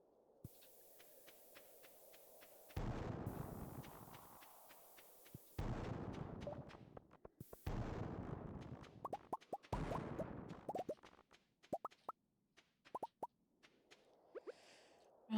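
Bombs in Stardew Valley Expanded go off in a mining cavern as a series of deep, muffled booms, several bursts spaced over the stretch between small clicks and quiet gaps.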